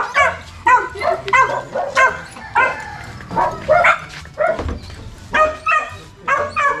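A dog barks repeatedly in quick, loud, close bursts, roughly a dozen sharp barks with brief gaps between them, continuing throughout without any speech over them.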